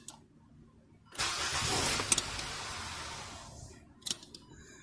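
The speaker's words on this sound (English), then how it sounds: "And then I'm going to crank it again." A Nissan Sentra engine cranks with its fuel pump relay switched off, a steady loud starter whir lasting about three seconds, close by, followed by a brief mechanical clunk, with no talking.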